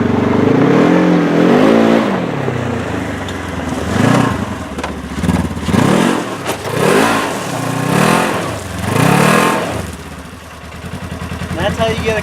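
Polaris RZR side-by-side engine revving in repeated surges as the vehicle climbs over a log obstacle, loud and close, with rising and falling pitch across several pushes.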